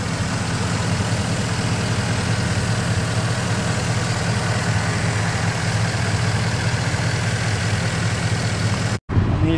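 A Chevrolet Silverado's 5.3 V8 truck engine idles steadily and loudly close by, a constant low rumble with no talk, cutting off briefly near the end.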